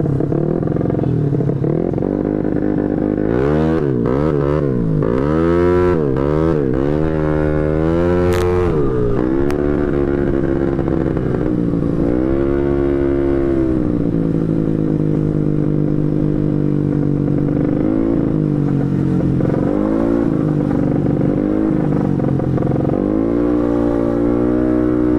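Two motorcycles, a carbureted 142cc Honda Beat scooter and a Kawasaki Ninja RR 150cc two-stroke, ride together, engines loud and close with rising and falling revs and repeated throttle blips throughout.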